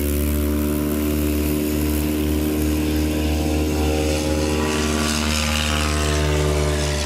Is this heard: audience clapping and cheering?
no